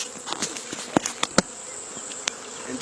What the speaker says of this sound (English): You see the buzz, you hear the buzz.